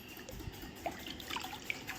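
Thin potato wafer slices are lifted out of one bowl of water and dropped into another, giving quiet splashes, light drips and a soft trickle in a close, hushed kitchen with no talking.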